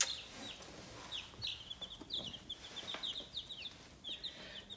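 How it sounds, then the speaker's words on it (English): Chickens on a small farm cluck and chirp in a series of short, high calls, with a rooster-like tone at times, moderately close but fairly quiet over light background noise, with no talking. "this is our free chicken"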